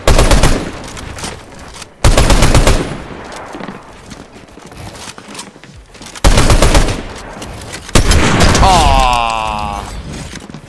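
Sniper rifle shots from a competitive online shooter game crack out loudly, about four separate booming blasts spread across the span, each followed by a decaying tail, with a whirring mechanical sound near the end.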